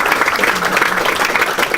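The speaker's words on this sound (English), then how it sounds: "And Congressman Lewis, definitely applaud for him." An audience applauds Congressman John Lewis at a New Hampshire campaign event, with dense, steady clapping filling the room throughout, a crowd roar mixed in and no clear pauses.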